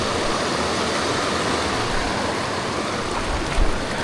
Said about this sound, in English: I need to get some water from my other pan and clean this out